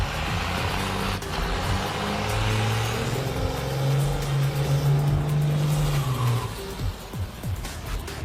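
A diesel-swapped Torino wagon drag racing down the strip, its engine roaring loudly and steadily under acceleration, the low throbbing note climbing in pitch before easing off near the end.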